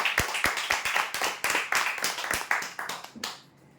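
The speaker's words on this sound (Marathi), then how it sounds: "लोखंडी तीन पल्ला कपाटसाठी जोरदार टाळ्या होण्यासाठी" A small crowd claps for a prize-draw winner, a close cluster of sharp, uneven hand claps that repeat rapidly for about three seconds and then die away.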